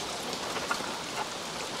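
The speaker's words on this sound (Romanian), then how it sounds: "Nici ce plouă." Steady rain falls at a mountain homestead in the Apuseni, a dense, even patter on surfaces with scattered drops, moderately loud and continuous, with no voices.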